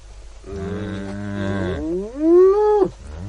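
Cows moo in a radio drama sound effect: one long, loud, close bovine low with a rising, bending tone, heard alone and without voices.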